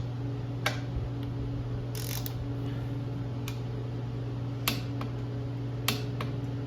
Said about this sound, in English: Okay, torque the axle.